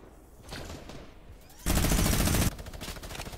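Gunfire in the video game Fortnite during an arena trio match: a loud burst of rapid automatic fire in the middle, with quieter crackling shots before and after.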